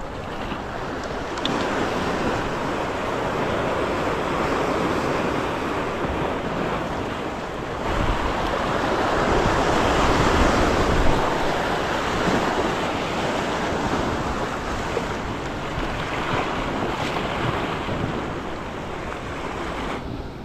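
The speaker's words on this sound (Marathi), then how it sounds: "लाटाचा अंदाज घ्यायचा लाटा कुठपर्यंत वर येतात" Sea waves roll in and break continuously, a loud steady roar of surf with gusting wind over the microphone.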